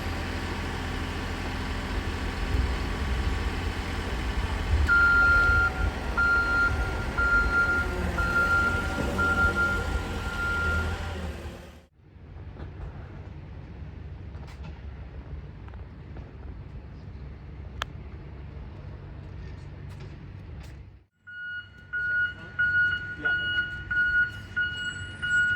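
Steady, repeated electronic beeping rings out over a low mechanical rumble, stopping for a while before returning, with people speaking at times.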